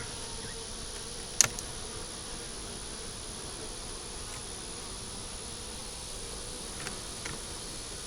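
Honey bees humming steadily around an opened hive being checked, a constant buzzing drone filling the air with a single sharp tap early on and faint ticks later.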